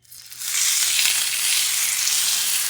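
A 21-day dry-aged ribeye, 1 1/4 inch thick, hits a cast iron pan and a loud, hissing sear swells within a moment, then holds as a dense, continuous sizzle.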